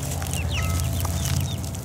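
A barred rock chicken clucks close by, with short chirpy calls rising above a steady low farmyard hum and a few soft bird sounds.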